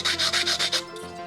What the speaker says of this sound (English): I'm tired of sanding